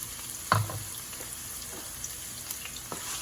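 Fresh chopped ginger stir-frying in olive oil for a lemon honey chicken stir fry, a soft steady sizzle with a sharp clatter of stirring near the start and light scrapes after, fairly quiet, no voices.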